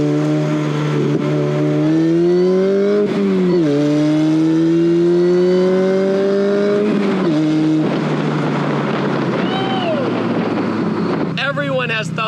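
A street-legal go-kart engine revs and accelerates in a loud, steady droning tone that climbs in pitch, drops at shifts and climbs again, with wind buffeting throughout.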